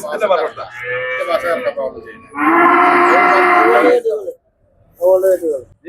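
A cow at a cattle market in Vaniyamkulam lowing loudly and close, several long moos separated by short pauses, the last one brief.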